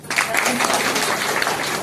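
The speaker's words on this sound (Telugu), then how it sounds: "మీ అందరికీ కూడా ఒకసారి క్లాప్స్." An audience at a company employee gathering clapping together in a dense, continuous burst of applause that carries steadily for the whole stretch, fairly loud and close.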